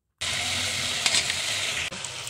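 Chopped onions hit hot oil in a pan for chicken curry and sizzle loudly and steadily up close, with a brief stir near the end.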